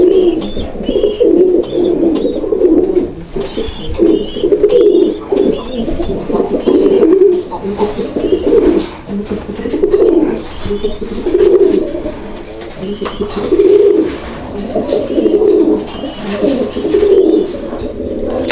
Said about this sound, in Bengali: তো নরের ডাকটা কিন্তু আলহামদুলিল্লাহ আমি আপনাদেরকে দেখাই দিলাম